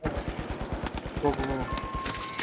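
Rapid automatic gunfire in the video game The Finals, bursts of sharp repeated shots stacked close together with a few rings of higher tones, loud and up front throughout.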